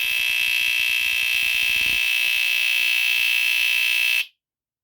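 A BRK 769AC smoke detector's piercing, steady high-pitched alarm horn blares continuously at close range, with a rapid pulsing rattle underneath, then cuts off abruptly near the end.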